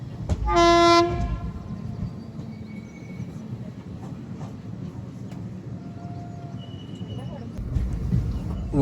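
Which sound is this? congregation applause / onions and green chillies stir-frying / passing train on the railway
passing train on the railway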